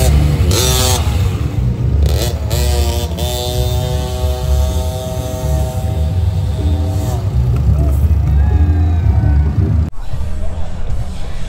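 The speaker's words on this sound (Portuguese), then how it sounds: "Caju vai botar scooter na pista agora, vamos ver. Mete marcha!" A scooter revs continuously on a rally track at a stadium. The engine drones loud and steady with rising and falling pitch sweeps, and the noise of other nearby activity runs underneath.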